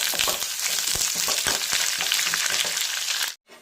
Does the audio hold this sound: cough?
no